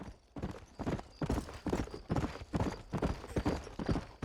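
Horse hooves clip-clop at a steady walking rhythm in the Red Dead Redemption video game, close and fairly loud, with no talk over them.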